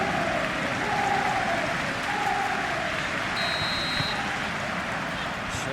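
A capacity stadium crowd in the PES 21 football game applauding and cheering, a steady broad roar of clapping throughout, with a few faint tones over it and no commentary.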